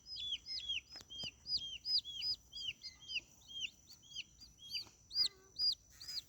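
Young chicks taken out to a playground give a rapid series of thin, high peeps, close and fairly faint, with short pauses and a few louder calls near the end.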